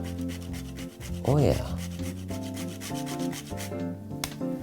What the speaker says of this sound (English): just scrape a little bit of fresh nutmeg over top